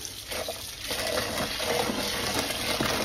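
Water running from a tap into a bowl of wild bird seed grain, a steady splashing gush that continues throughout at close range.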